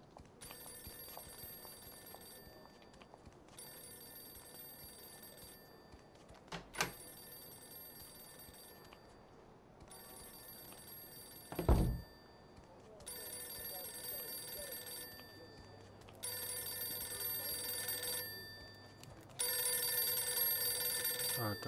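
Telephone rings in the video game Mafia 2, repeated bursts of bright electronic-style ringing separated by short gaps, fairly faint over a quiet background with a brief low thump partway through.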